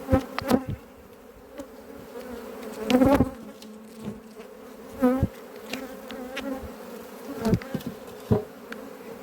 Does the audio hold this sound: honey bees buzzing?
yes